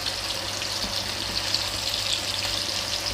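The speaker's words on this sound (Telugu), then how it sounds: "నూనె ఇలా వేడెక్కిన తర్వాత మనం నాది చిన్న ప్యాన్ కాబట్టి నేను ముందుగా 2 ముక్కలు వేసుకున్నాను" Two fish pieces frying in hot oil in a small pan over medium flame, a steady close hiss and crackle of sizzling without pause.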